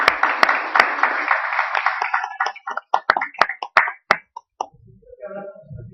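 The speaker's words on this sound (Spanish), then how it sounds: "Demos ese fuerte aplauso de bienvenida" Church congregation applause of welcome at a Spanish-language sermon, dense clapping for about two seconds that thins into scattered claps and fades, ending with faint talk.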